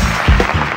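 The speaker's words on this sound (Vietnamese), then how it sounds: "chúng ta sẽ tiếp tục dành một tràng pháo tay nữa" A brief burst of loud crowd applause, many hands clapping together in a dense wash.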